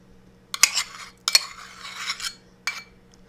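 A spoon scoops ricotta cheese into a bowl, giving three distinct metallic clinks against the bowl, each followed by soft scraping and a quiet pause.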